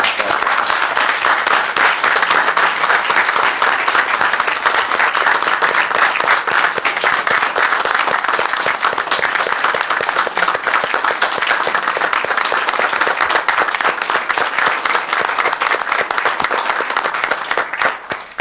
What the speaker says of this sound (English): I think we should all give them a round of applause